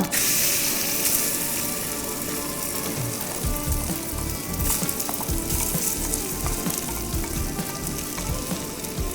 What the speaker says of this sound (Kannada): ಇದು ಅರ್ಧ ಕೆ ಜಿ ಹಲಸಿನ ಹಣ್ಣು ಅದನ್ನು ಈ ತುಪ್ಪಕ್ಕೆ ಹಾಕೋಣ